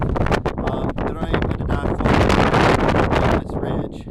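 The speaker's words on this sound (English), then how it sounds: "it probably sounds really windy, but it's not that windy" Gusty wind on a mountain ridge buffets the microphone in loud, rough bursts that rise and fall, with a brief lull near the end.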